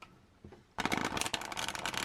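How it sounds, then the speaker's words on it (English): A tarot card deck on new US Games cardstock being riffle shuffled: a brief soft rustle, then a loud, close, rapid flutter of cards cascading together for over a second, with no talking. "If you riffle shuffle it,"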